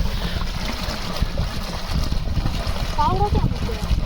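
Steady rushing water flows continuously, fairly loud and close, with a voice talking over it throughout.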